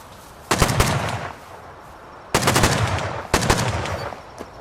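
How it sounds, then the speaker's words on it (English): Gunfire is exchanged in the video game Rust, with three loud bursts of rapid automatic shots separated by short pauses, fairly close and with no speech over them. "Exchanging some fire back and forth."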